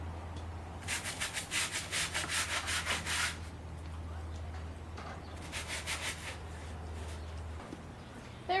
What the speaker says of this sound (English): I'm just going to stick a little on the brush, set that aside, and scrub away